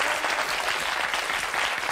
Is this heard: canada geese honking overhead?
no